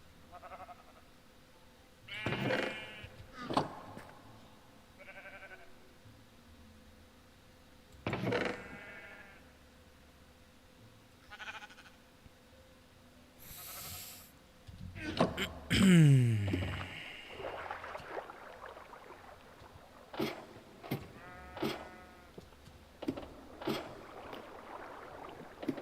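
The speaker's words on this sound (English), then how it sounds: "Hello, sheep." Sheep bleating in the Minecraft video game, several separate short bleats scattered over the stretch among other game sounds, including a louder warbling burst midway.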